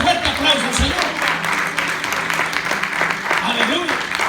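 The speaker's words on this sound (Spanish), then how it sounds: "Denle ese fuerte aplauso al Señor." A church congregation applauds during a Spanish-language service, a sustained burst of clapping mixed with voices and shouts, fairly close and continuous for a few seconds.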